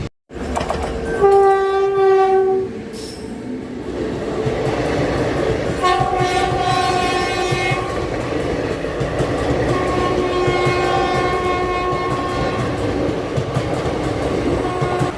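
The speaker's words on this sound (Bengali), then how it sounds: "এই মুহূর্তে আমাদের ট্রেন এসে দাঁড়িয়েছে নিউ ফারাক্কা জাংশনে" The Teesta Torsha Express, a long-distance Indian passenger train, runs with steady rail rumble and wheel noise as its horn sounds loudly several times in long tonal blasts over roughly fifteen seconds.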